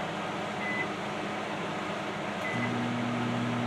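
A 700-watt microwave oven runs with a steady low electrical hum and fan-like whir. A faint tone chirps briefly, and the drone shifts to a slightly different pitch near the end.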